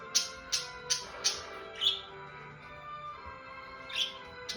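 Pet parakeets, including a Quaker parrot, chirp close by indoors, a series of short sharp tweets in quick succession at first, then sparser calls and a faint whistled tone beneath.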